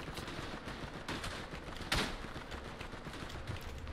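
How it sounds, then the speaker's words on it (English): Gunfire in a WWI first-person shooter set on the Eastern Front at Tannenberg, with machine gun fire among other shots: a dense, continuous crackle of distant rounds, one sharper close shot standing out midway. "Oh my god, I have a machine gunner somewhere, Jens."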